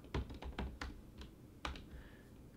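A password being typed on a computer keyboard, with a close, quick run of distinct key clicks, a brief pause, then a few more taps, heard alone without talk.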